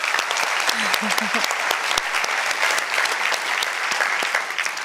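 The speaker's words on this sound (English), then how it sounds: "a big round of applause, please, also for Rasha" Applause from the audience at the Future for Nature Award ceremony, welcoming Rasha: dense, steady clapping from a large crowd filling the whole stretch, with a brief voice murmuring underneath near the start.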